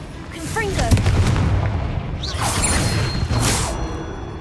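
Confringo blasting spell cast in the Hogwarts Legacy video game, giving a string of fiery bursts and whooshing blasts over steady game ambience, with a loud burst near the middle and further bursts later.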